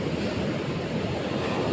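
Sea waves wash continuously onto the shore at La Union, a steady loud roar of surf mixed with wind buffeting the microphone, with no voices.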